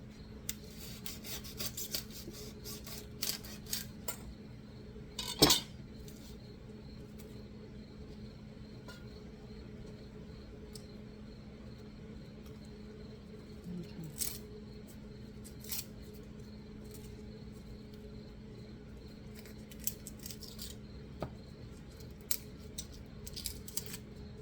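A head of garlic is cut on a board in a home kitchen, giving faint, scattered crunching and rasping cuts with one sharper snap near the start, under a steady low hum with no talking.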